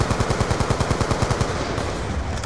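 AN-94 assault rifle fire in Call of Duty Black Ops 2: a rapid, evenly spaced stream of loud, close shots for about a second and a half, trailing into a sustained roar of gunfire and echo.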